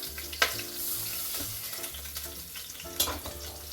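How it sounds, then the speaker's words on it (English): A beef roast tilted on its side sears inside a Ninja Foodi XL, giving a close, continuous sizzle and crackle of hot fat with two sharper pops, no voices present. "Tilt it on its side and sear it."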